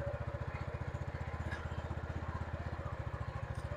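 A motorcycle-based tricycle engine runs steadily at close range, its rapid even exhaust pulses chugging throughout while the rider works through the gears.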